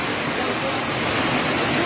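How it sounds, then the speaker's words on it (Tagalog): Fast-rushing floodwater surges through a farm in heavy rain, a dense, loud, continuous roar of churning water heard up close with no let-up. "Ang bilis ng pagragasa ng tubig."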